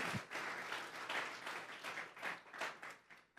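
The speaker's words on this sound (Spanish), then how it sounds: "Vamos a regalarle ofrenda de palmas al Dios de la gloria." A church congregation applauds during a Sunday service, steady clapping from many hands, moderately distant and sustained, with rhythmic swells and no speech over it.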